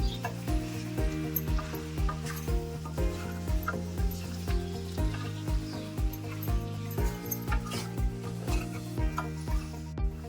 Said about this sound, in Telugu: మనం ముందుగా ఫ్రై చేసి పెట్టుకున్న ఎగ్ పీసెస్ని వేసుకోవాలి. ఇలా వేసుకున్నాక 5 నిమిషాలు కలుపుకుంటూ ఫ్రై చేసుకోవాలి.